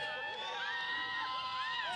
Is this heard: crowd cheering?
yes